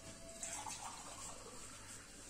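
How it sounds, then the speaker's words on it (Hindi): Water poured into a dish while preparing a festive Holi thali, a faint, soft, steady trickle and splash heard alone at low level. "पानी देती हूँ,"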